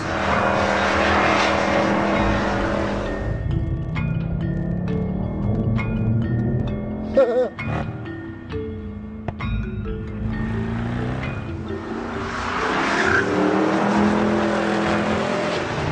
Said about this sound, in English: It's got a broad power band, but it still likes the revs. Great noises.